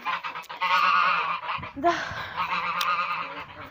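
Ducks and chickens in a fenced farmyard enclosure honk and squawk repeatedly at close range in loud, overlapping bursts, with a brief word from a person among them.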